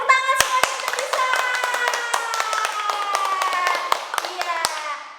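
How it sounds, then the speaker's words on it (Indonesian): Children at an HKBP Sunday school service clap their hands in sharp, uneven bursts, with young voices and a tuneful sound carrying between the claps. "tepuk tangan semuanya"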